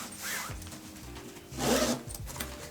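A luggage pocket zipper is pulled in a few short, scratchy runs, close by, with a louder, longer drag near the end.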